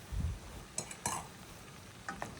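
Potatoes and spices stirred in a pan for a small-fish curry, with a few faint scraping strokes over a soft, quiet sizzle, no voices.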